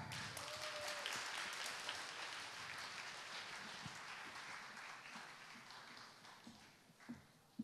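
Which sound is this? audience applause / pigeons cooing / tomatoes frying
audience applause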